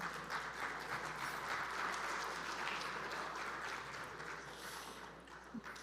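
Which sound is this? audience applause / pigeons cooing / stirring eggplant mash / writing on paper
audience applause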